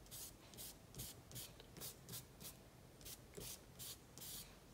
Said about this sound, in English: I can use that to rub along areas that I want to make a little lighter